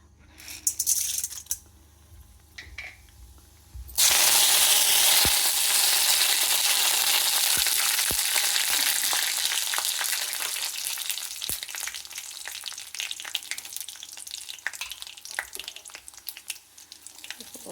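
Chopped spinach (palakura) dropped into a hot pan for frying bursts into a loud, steady sizzle that stays dense and close and slowly eases. Occasional stirring clicks and rattles come through the sizzle.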